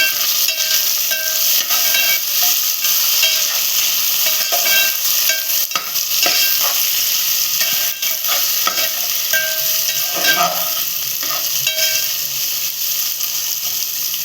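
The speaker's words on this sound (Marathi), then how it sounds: "आता आपण टॅमॅटो टाकतोय. कांदा थोडा व्हायचा आहे पण टॅमॅटो टाकले, दोन्ही एकदम होतील ना." Tomatoes tipped into onions frying in a pan for a spicy prawn rice dish, a loud, steady sizzle and hiss with scraping stirring strokes throughout, close up and continuous.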